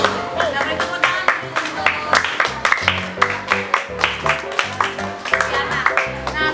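Children in a classroom clap together in a burst of quick, uneven claps at close range, with rhythmic peaks repeating steadily throughout.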